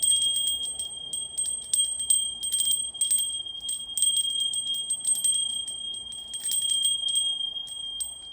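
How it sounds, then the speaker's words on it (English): An old meditation bell struck several times, each bright ring sustaining a clear steady tone in a quiet room, with gentle repeated strikes and no talking. "And we have our other bell, which I use,"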